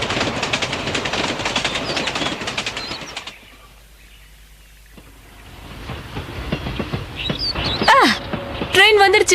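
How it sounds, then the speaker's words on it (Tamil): A train rumbles and clatters past loudly, briefly easing into a quieter lull before rising again, with squealing brakes and a horn-like tone near the end. "ட்ரெயின் வந்துருச்சு"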